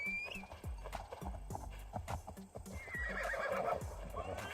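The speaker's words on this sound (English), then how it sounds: "Let me call my horse." In the Assassin's Creed Shadows video game, a horse whinnies while its hooves clip-clop in a steady rhythm over a busy background, with quiet voices underneath.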